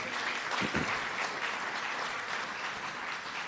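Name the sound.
audience applause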